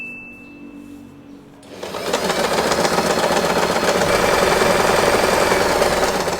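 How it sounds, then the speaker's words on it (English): After a soft hum, a sewing machine starts up and stitches steadily through folded fabric for a bow, its loud, fast mechanical whir running continuously to the end. "we are going to sew this part."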